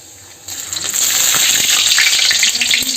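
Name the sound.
garlic sizzling in hot oil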